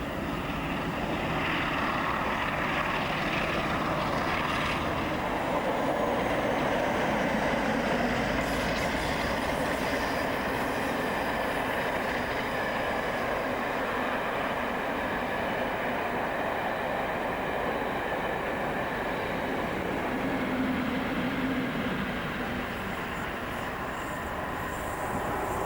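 The Northern Belle train passes, a long, steady rumble of wheels and rolling stock that holds moderately loud throughout, with no voices over it.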